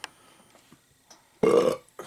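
A single loud burp follows a few faint mouth and handling sounds after a sip of Railway City Black Coal Stout, 2012, short and close to the microphone.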